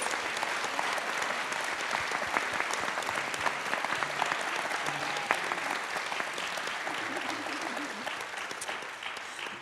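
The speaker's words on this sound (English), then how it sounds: "Let's give a big round of applause to these 5 authors." An audience applauds five Scotiabank Giller Prize finalist authors at a literary evening, a sustained, fairly distant roar of many clapping hands that stays even across the whole stretch with a murmur of crowd beneath.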